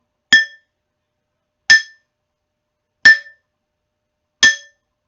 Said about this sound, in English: let's hear what it sounds like when I hit the pan with the ladle